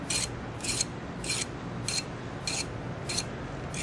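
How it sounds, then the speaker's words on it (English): A half round file smoothing the curves of a steel tattoo frame, heard as close, even rasping strokes repeated about seven times in a steady rhythm over a constant background hiss. "when you have curves like this, you'll need a half round file"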